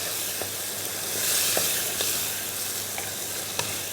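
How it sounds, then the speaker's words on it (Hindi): Chana dal roasting with tomato, green chilli, turmeric and spices over a high flame, giving a steady broadband sizzle with a few soft stirring clicks and scrapes, close and moderately loud, with no talking. "इसको चने की दाल डाल के अच्छे से अब हम इसकी भुनाई करेंगे"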